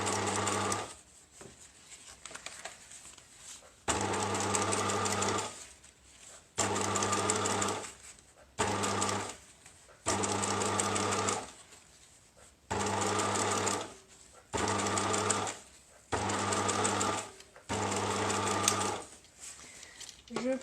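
A sewing machine stitches a bicycle frame bag in roughly eight loud, close, steady runs of whirring, each a second or two long, separated by short pauses while the fabric is repositioned.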